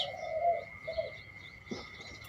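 Soft spotted dove calls, a couple of low cooing notes, sound outdoors behind a house over a faint steady high whine and light background noise.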